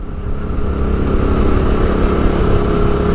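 Motorcycle coasting downhill on a wet mountain road in Neelum Valley, Azad Kashmir, its engine a steady, close, mid-pitched drone that holds at an even level throughout, with no voices.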